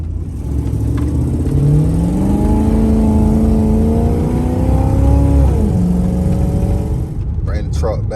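A truck engine with a bad spark plug revs up and lags, rising and falling whine held close and loud for several seconds, with a brief clatter near the end.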